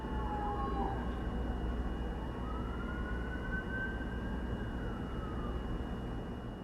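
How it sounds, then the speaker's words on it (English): An ambulance siren wails from a distance, rising and falling in long sweeping tones over a low, steady rumble of traffic, with no talking. "You hear that, ambulance?"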